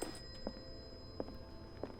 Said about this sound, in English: That's quite the phone we got here.